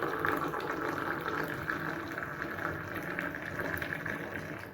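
Moroccan sweet tea poured from a pot into a glass for tasting, a steady close liquid stream running continuously for about five seconds with no pauses.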